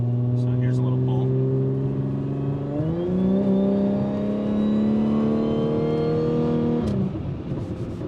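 A 2013 Audi B8.5 S4 in sport mode accelerates hard on a road at near highway speed, its engine note climbing steadily and loud from inside the car, then easing off at the end.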